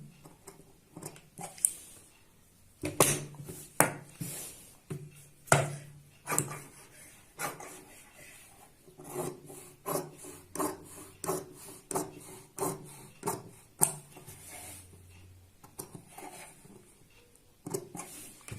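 Light cuts are scored into a strip by hand: a close, dry series of short scraping strokes repeating in an uneven rhythm, with brief pauses between bursts.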